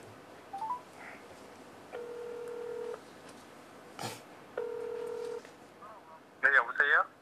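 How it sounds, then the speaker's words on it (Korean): Telephone keypad tones dialing out to place a call on a Korean radio-style show: a few short beeps, then two long steady tones, a click, another long tone, and a final burst of ringing tones. Faint background voices occasionally sit under them. "전화 한번 연결해 보도록 하겠습니다."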